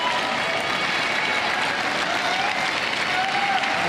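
A steady wash of crowd applause fills a boccia match at the Paris 2024 Paralympics, continuous and dense from start to finish, with a commentator's voice faintly underneath.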